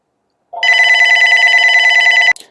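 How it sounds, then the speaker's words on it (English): Electronic telephone bell ringing, one loud steady trilling burst lasting under two seconds that cuts off abruptly with a click, heard alone. "the phone was ringing"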